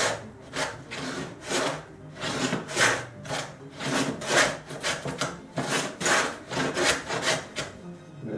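A reconditioned Sandusky 177 dado plane takes light, waxed-sole cuts in wood, a repeated rhythmic rasping shave about once per second, close and moderately quiet, with no voices.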